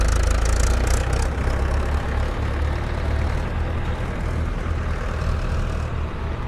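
A tractor engine hauling sand beside the Luna River runs as a loud, steady low rumble close by, throbbing continuously with no break and no voices.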